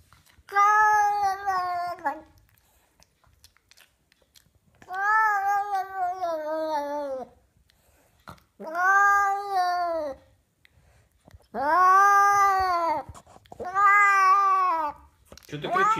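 A cat yowls loudly and close, letting out five long drawn-out, wavering cries separated by short pauses, with a quiet room around it.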